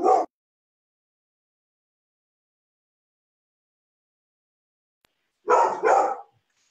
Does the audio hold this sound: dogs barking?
yes